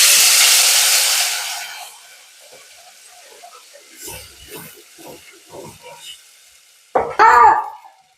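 Spice tempering for egg sambar hits hot oil with a loud burst of hissing sizzle that fades over about two seconds, followed by quieter stirring clinks and a sharp final scrape.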